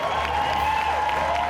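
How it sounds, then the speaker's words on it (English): Steady, dense applause from a game-show studio audience, a continuous wash of clapping heard from a moderate distance with no speech on top. "And big round of applause for Lynn for saying."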